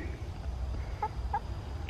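Free-ranging chickens outdoors give a couple of short, soft clucks about a second apart over a steady low rumble of background noise.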